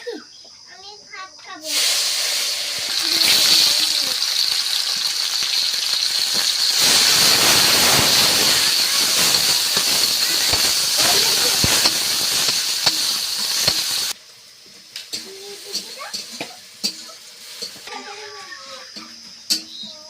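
Ground onion, garlic and ginger paste hits hot oil in a pan, bursting into a loud, steady sizzling hiss that runs for several seconds, then drops to softer crackles while a voice talks nearby.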